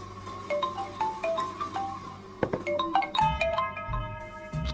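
A mobile phone ringtone plays a clear melodic tune of repeated tonal notes. It sounds alone, with no talk over it, and is fairly close and steady for several seconds.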